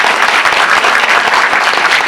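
An audience claps in a cinema during a post-screening talk at Megabox in Ansan. The applause is loud, dense and continuous for the whole stretch, with no voices over it.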